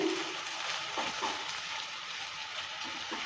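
Ground masoor dal paste frying in hot mustard oil in a pan, a steady close sizzle and hiss throughout with faint stirring scrapes.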